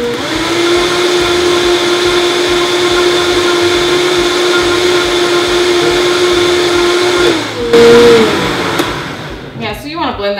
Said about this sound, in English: let's blend this bad boy up